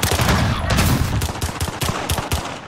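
Rapid, loud gunfire in a Call of Duty two-versus-two gunfight, a quick string of close shots at an even rhythm over dense game noise.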